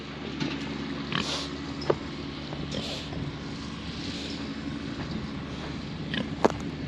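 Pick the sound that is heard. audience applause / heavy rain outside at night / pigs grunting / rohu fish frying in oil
pigs grunting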